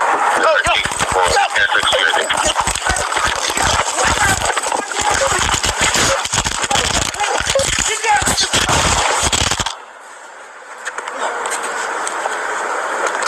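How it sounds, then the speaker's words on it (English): A rapid burst of gunshots rings out during a police traffic stop, dense loud cracks packed close together, mixed with raised voices, then cut off into a quieter stretch. "Shots fired, shots fired."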